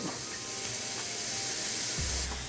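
Souvlaki skewers of meat sizzling on a hot grill, a steady close hiss and crackle throughout with a dull knock near the end.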